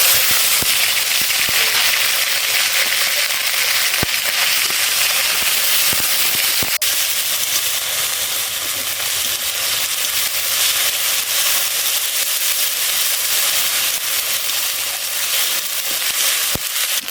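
Nigella seeds and green chillies hitting hot oil for tempering, a loud, dense crackling sizzle that holds steady and close throughout, with sharp pops scattered across it.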